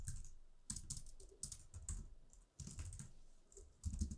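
Fast, irregular clicking of keys on a computer keyboard, close and fairly quiet, with short pauses between clusters of keystrokes.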